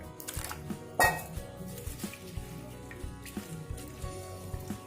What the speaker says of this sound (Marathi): दोन पाण्याने धुवून घ्यायचे स्वच्छ